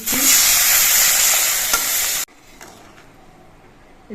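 Loud, close sizzling of spice masala in a pan cuts off abruptly as water is poured in, leaving a quiet simmer with faint stirring and no voices.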